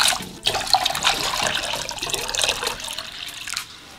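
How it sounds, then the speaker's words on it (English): Water gushes from a tap into a pan, splashing and rushing for a few seconds before tapering off, close and fairly quiet. "So we're gonna take a couple of our pans. We're gonna fill it up with"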